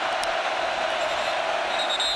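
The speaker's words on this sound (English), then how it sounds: "And that crowd noise is real." Steady roar of a large stadium crowd at a Texas Longhorns college football game against TCU, a continuous dense wash of voices holding level throughout with no pauses.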